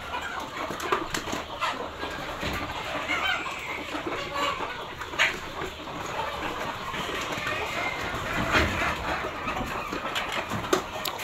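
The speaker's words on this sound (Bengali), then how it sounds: "দেখেন এটা হলো মা মুরগির খামার।" Hens cluck steadily inside a breeder-hen shed on a poultry farm, a dense, continuous flock chatter that is close and fairly loud, with no clear talking over it.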